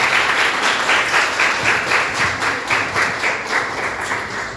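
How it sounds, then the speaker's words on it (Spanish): A school audience at Colegio Sagrado Corazón applauds to welcome a lecturer, a full, lively round of clapping from many people that holds steady for several seconds. "aplausos para el doctor"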